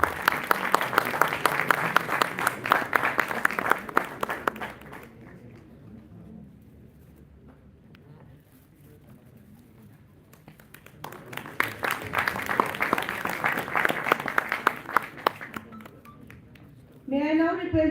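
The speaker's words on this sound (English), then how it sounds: "A big round of applause." Conference audience applause rings out at an international technical textiles and sustainability event, a burst of many hands clapping, then a quieter lull before a second full round of clapping, ending with a brief tonal chime.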